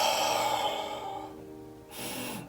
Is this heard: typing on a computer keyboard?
no